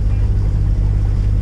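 A sailboat motors under its engine, giving a loud, steady low-pitched drone with a continuous hum throughout the short stretch.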